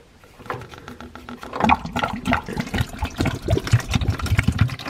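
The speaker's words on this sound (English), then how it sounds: "Let your fluid drain there." Hydraulic transaxle fluid drains from a Gravely ZT XL mower, an irregular gurgling, splashing pour that builds and continues unevenly, close and fairly loud.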